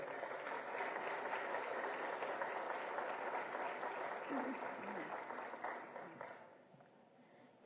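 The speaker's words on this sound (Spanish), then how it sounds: "Recibámosla con un fuerte aplauso." Sustained audience applause at a humanitarian protection conference in Villahermosa, Mexico, a broad even patter of many hands that holds steady and then fades out over the last couple of seconds.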